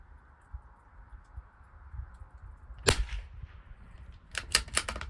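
Savage Mark II rimfire rifle firing Eley Team ammunition at a 200-yard range: one sharp, loud crack, then a quick cluster of three or four shots close together, over low outdoor background rumble.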